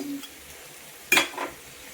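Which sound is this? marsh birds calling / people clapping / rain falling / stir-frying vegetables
stir-frying vegetables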